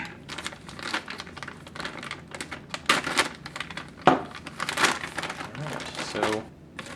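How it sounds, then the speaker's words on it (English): A knife cuts open a 2014 Australian MRE CR1M pouch with no tear notch, giving close crinkling and rasping plastic sounds in uneven bursts, with a voice speaking over parts of it. "so we'll just use a knife and cut it open"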